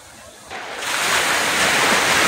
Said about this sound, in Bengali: সমুদ্রের গর্জন শুনছো নিশ্চয়ই, কতটা লাউড।